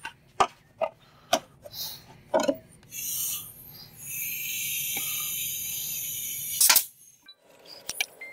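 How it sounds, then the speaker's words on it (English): A staple gun fires into a wooden birdhouse in several sharp, separate clacks, loud and close, with a stretch of hissing noise in the middle and no talk. "This is a staple gun."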